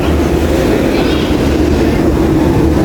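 A train rumbles steadily and loudly with a constant low roar and rattling, heard from on board or very near.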